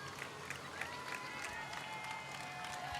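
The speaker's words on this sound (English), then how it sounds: "clapping when they go by" Parade spectators at a festival grand parade applaud passing U.S. veterans groups, a steady spread of moderate clapping from a crowd with scattered individual claps and light voices underneath.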